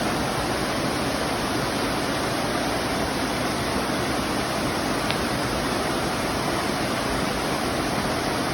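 Lick Falls, a waterfall along the Foothills Trail in the Carolinas, pours with a steady, dense roar of rushing water that fills the whole stretch evenly with no other sounds.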